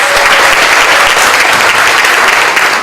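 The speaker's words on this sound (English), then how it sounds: "Let's give them a big applause." Loud, dense audience applause after a performance at a student program, a continuous close burst of clapping that fills the room without pause.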